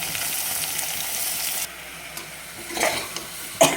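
Mutton being stirred in a pan with ginger, garlic, chili powder and turmeric, a steady close sizzle and scraping that thins out midway, then louder stirring scrapes near the end.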